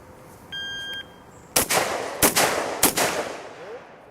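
Three sharp, loud gunshots ring out about a second apart during practical shooting training on a range. A brief electronic timer beep comes just before them.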